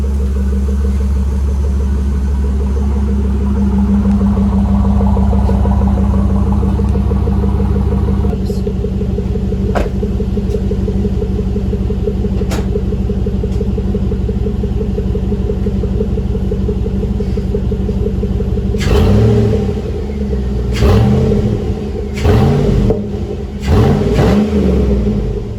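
A Chevy 1500 engine idles with a loud, steady rumble with no radiator fans fitted. Near the end it gives a few short revs, which rise and fall.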